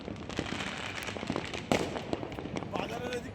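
Firecrackers and fireworks crackle and pop densely all around a market area on the first day of the new year, a continuous rattle of bursts with people talking excitedly over it.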